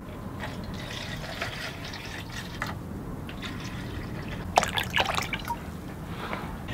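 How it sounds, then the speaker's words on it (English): Vinegar pours from close by into a small container of metal egg beater drill parts, a trickling splash that swells into a brief louder gush near the end. "Just gonna pour some vinegar over the top."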